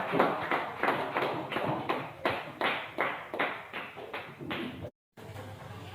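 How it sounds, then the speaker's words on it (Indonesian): A group claps together in a steady, evenly spaced rhythm of loud bursts that slowly fade, broken by a short gap near the end, with no talking over it. "Tepuk tangan semua dulu."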